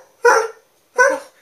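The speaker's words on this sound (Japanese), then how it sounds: "吠えても取れないよ" A basset hound barks twice, loud and close, two full-throated woofs spaced under a second apart with silence between.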